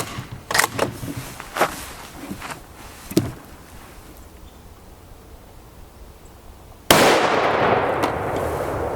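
Rifle shots from a 24-inch TC Compass crack as sharp, fairly close reports spaced a second or two apart, followed by a loud, sustained noisy blast near the end.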